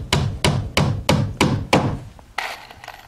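A hammer drives nails through LP siding panels into solid material on a shed wall, six sharp, evenly spaced blows ringing close and loud, followed by a softer knock and a brief scrape.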